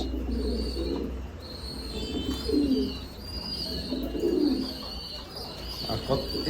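A newly acquired pair of pigeons coos close by in repeated low, rolling calls, with a person talking over them.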